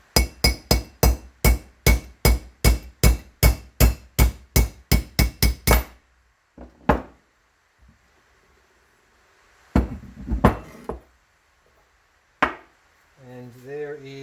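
A rapid series of about fifteen sharp metallic hammer blows on a socket, knocking out a bearing spacer, in steady rhythm, followed by a few scattered knocks and clinks with quiet gaps between.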